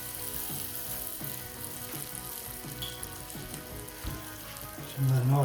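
A bun and meat patty frying in a fry pan for an Australian-style patty melt, a continuous moderate sizzle with light clatter, swelling into a louder burst at the very end.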